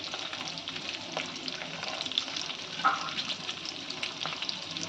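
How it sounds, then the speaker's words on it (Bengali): Twelve green chilies and fifty grams of chopped garlic sizzle in four tablespoons of hot oil, a steady, close crackling fry with occasional stirring pops. "এখানে ফোর টেবিল স্পুন তেলের মধ্যে বারোটা কাঁচা লঙ্কা দিচ্ছি এখানে দিয়ে দিচ্ছি পঞ্চাশ গ্রাম রসুন কুচি"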